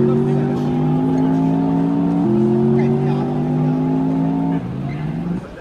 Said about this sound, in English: here's a short clip of the simulated engine note